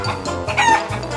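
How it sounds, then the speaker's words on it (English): A chicken clucks and squawks loudly up close in a short burst of several rough, agitated calls. "The chickens don't know!"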